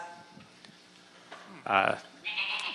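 A man imitates a goat's bleat with his voice, one loud wavering bleat in a room, with talk around it, as he walks out of a city committee meeting.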